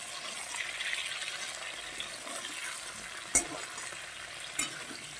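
Chopped onion and capsicum sizzle softly as they fry lightly in a pan for a milk paneer lunch dish, a steady low crackle with two sharp stir clicks near the end.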